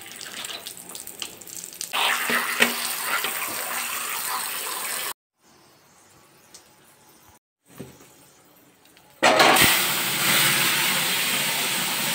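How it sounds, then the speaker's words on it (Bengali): Bata fish being rinsed under running water at a home kitchen sink: a steady gushing splash, broken by two stretches of near-silence, then the water returns loud and full, no voices. "আর এদিকে আমি বাটা মাছগুলো এবার ধুয়ে নিচ্ছি"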